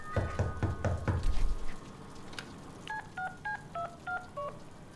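Phone keypad tones dial a number in the Deadpool video game, a quick run of about eight beeps after some earlier knocking thumps, fairly faint with no talking.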